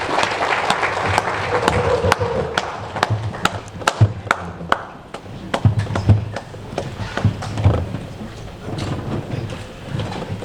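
Audience applause for a trade minister arriving at the podium of a seminar on Chinese investments in Zimbabwe, a dense patter of claps filling the room, swelling then thinning out near the end.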